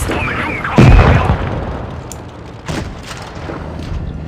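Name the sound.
tank cannon firing shells at KV-3 in a video game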